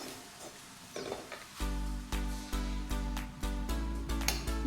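Ingredients for Tamil karakulambu (a tamarind-based gravy) fry in a pan while a spoon stirs them: a steady sizzle runs under a series of regular scraping strokes, close and fairly loud.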